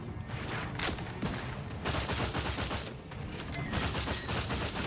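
Rapid, loud gunfire from The Outer Worlds, repeated shots hammering away at a bug in dense, continuous bursts with no talking.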